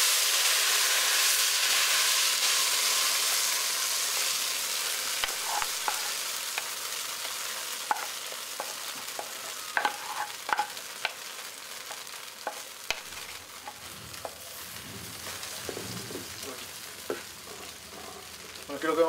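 Mole ingredients, including guava, fry in hot browned lard, giving a steady loud sizzle that fades gradually while scattered crackles and pops continue.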